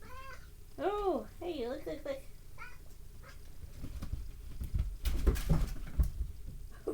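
A pet cat meows several times in a row, close and clear, with rising and falling cries, while people talk and make soft household noise nearby.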